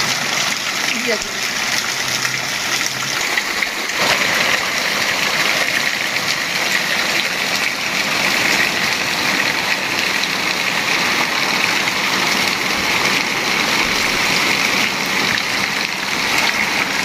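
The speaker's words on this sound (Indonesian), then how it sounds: "Yo, tapi hujan. Hujannya gede banget." Heavy rain pours down steadily in a village setting, a dense continuous hiss filling the whole stretch, loud and close, with a low engine-like rumble underneath and brief voices early on.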